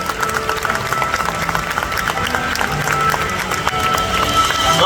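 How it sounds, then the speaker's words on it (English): An audience claps and cheers for raptors and vulture-type birds at a bird park show. The clapping is dense, continuous crowd applause with bursts of cheering, heard from within the crowd the whole time. "let's take a moment and give a big round of applause to these amazing birds"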